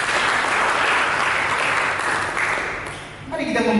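Church congregation applauding during a sermon service, a loud sustained burst of clapping that fades briefly near the end before a fresh swell.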